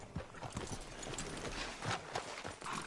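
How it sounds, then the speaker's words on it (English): Horse hooves clip-clop steadily in Red Dead Redemption 2, a run of evenly spaced thuds at walking pace, close and clear over faint ambient game background, with no talk. "Hitch your horse up here."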